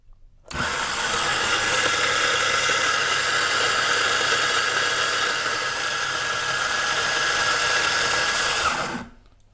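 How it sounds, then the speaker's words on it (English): A timer-controlled electric coffee grinder starts suddenly, whirs loudly and evenly for about eight seconds, then cuts off and quickly winds down. "So it stopped the coffee grinder after 8 seconds."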